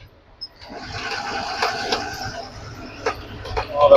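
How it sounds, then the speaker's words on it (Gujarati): Heavy rain pours down on a waterlogged road in Gujarat, a steady broadband wash of water that holds for the whole stretch, with a few sharper splashes or knocks near the end. "વરસાદ ફૂલ ચાલુ છે"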